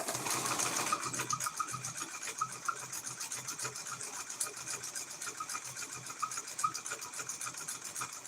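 A sewing machine stitches fabric coasters, running in a steady rapid whir with a fast needle rhythm, close to the microphone and continuing without pause.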